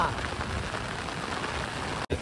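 Steady rain hisses and patters on a surface, an even wash of noise that cuts out briefly just before the end.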